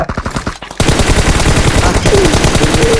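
M416 rifle fire in PUBG Mobile: loud, close rapid automatic bursts, briefly paused, then a long continuous stream of evenly spaced shots to the end.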